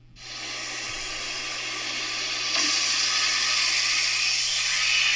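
A vacuum cleaner switches on and roars with a steady airy whine, its pitch rising slightly partway through as it keeps running.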